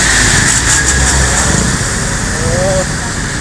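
A truck ploughs through deep flood water on a street in San Juan, Taytay, its engine droning and water rushing steadily under excited voices chattering throughout.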